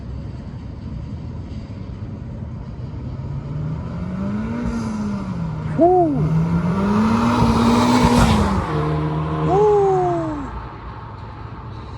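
A 2019 Honda Civic Type R fitted with a PRL intake makes flybys, its engine note rising and falling as it passes, with a loud approach and a blow-off valve whoosh, while a person cheers.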